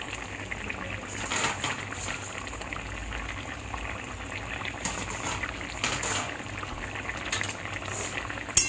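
A pot of tangra fish curry with potatoes simmers on a gas flame, giving a soft, steady bubbling with irregular pops and gurgles that grow louder in brief bursts.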